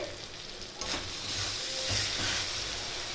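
Spice masala for a mutton curry sautés in a pan with a continuous loud sizzle, broken by stirring scrapes and a brief swell of frying noise near the middle, heard alone without talking.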